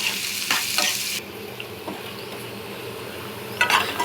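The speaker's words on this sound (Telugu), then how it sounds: "ఒకసారి కలిపేసుకొని మూత పెట్టేసుకుందాం" Onions sizzle in a pan while being stirred, giving a close, dense frying hiss with bursts of scraping near the start and end, and no speech.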